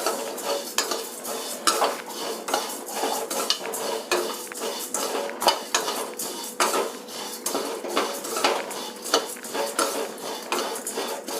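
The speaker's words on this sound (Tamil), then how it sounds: "அதுக்குள்ளே நம்ம இந்த சேமியாவை ஒன்று வதக்கிக்கலாம்" Semiya vermicelli being sautéed in ghee or oil in a pan for uppuma, with steady scraping and clinking of a utensil against the pan and a faint sizzle running throughout.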